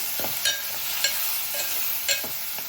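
Boat snails simmering in a tomato curry in a pan over medium flame, a soft continuous sizzle with a few light stirring scrapes at irregular intervals.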